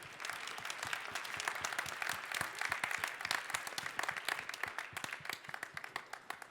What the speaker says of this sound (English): big round of applause for all of those guys.